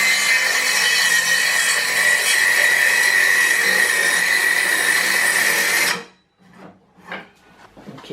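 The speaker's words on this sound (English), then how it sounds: "I think I'll work it with the handsaw." A handsaw cuts through wood on a workbench for fitting a vice, a steady rasping stroke continuing close and loud for about six seconds before stopping, followed by a few faint knocks and scrapes.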